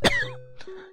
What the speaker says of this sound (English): He coughs weakly.